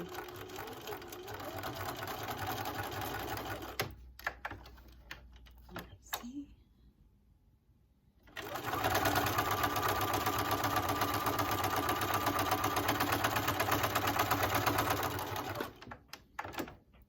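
A Bernina sewing machine fitted with a walking foot stitches in two long bursts: a steady, loud mechanical whir for about four seconds, a pause with a few clicks, then a longer run before stopping.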